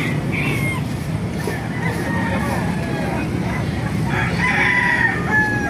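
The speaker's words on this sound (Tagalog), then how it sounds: "May mga manok na sirama." Roosters crow and chickens cluck amid a dense, noisy crowd hubbub at an animal market in Baliuag, Bulacan, with steady background din throughout.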